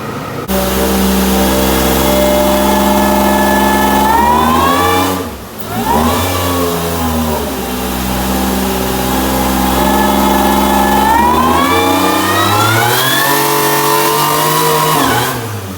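Supercharged Toyota Sienna engine running hard on a dyno with no boost, rising in loud sustained revs, dropping off briefly around the middle, then climbing again to a steady high-pitched roar.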